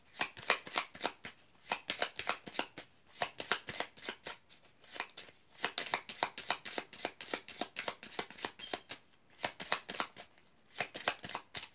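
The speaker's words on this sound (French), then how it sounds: "On va tirer quand même une autre carte, au cas où, si on a un renseignement." Tarot cards shuffled by hand in repeated riffling bursts, crisp and close, with brief pauses between runs and no talking.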